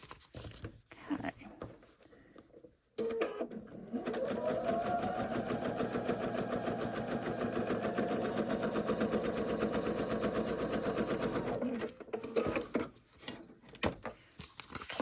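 A sewing machine stitches purple quilt fabric in a long, fast, even whir of needle strokes that starts abruptly, runs for about nine seconds and stops, with quieter handling noises before and after.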